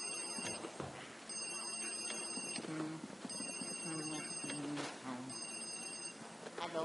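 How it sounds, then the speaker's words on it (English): Telephone ringing in the Luigi's Mansion video game, a repeating electronic ring in bursts with game music and background sound underneath. "Answer the phone, Neo."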